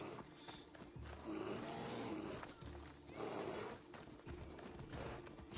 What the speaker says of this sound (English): The bear is attacking the horse.